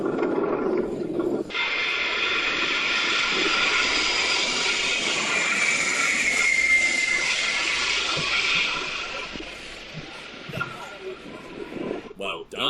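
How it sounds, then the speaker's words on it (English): An Antonov An-225 cargo aircraft landing in a crosswind, a loud broad jet roar that swells and sweeps past up close before fading, with people talking under it near the end. "Let's see how this pilot handles the landing of the Antonov"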